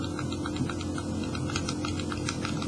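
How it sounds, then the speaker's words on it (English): Rapid typing on a computer keyboard, close and clear, with irregular quick key clicks continuing throughout the short stretch and no talking. "Make sure you type this exactly as it is."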